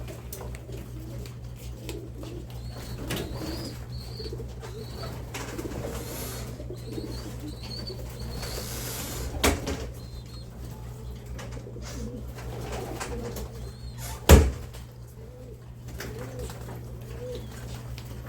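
Pigeons in a loft cooing softly and repeatedly, with a steady low hum throughout, occasional wing flutters and a sharp knock near the end.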